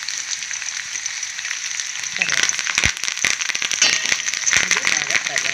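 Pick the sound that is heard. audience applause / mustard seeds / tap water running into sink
mustard seeds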